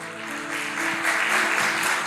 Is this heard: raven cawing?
no